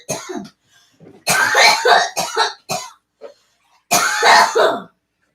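Several harsh coughs and throat-clearing bursts come close to the mic, in short clusters separated by brief silences.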